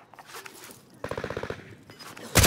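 Gunfire in a shooter video game: one rapid burst of about a dozen automatic shots in the middle, then a loud blast at the very end, over quiet game ambience.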